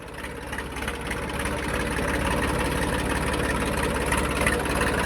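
A New Holland 3032 tractor runs with a 14-tine harrow hitched behind, its diesel engine holding a steady, close, low idling rumble that swells slightly at the start and then stays even, with no talking.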